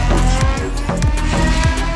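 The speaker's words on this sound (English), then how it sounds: "the ultimate 5 liter V10 with 500 horsepower" BMW 6 Series with the 5-liter V10 engine, the same 500 horsepower engine as the E60 M5, revving loud and close with a dense, raspy roar and rising and falling sweeps in pitch.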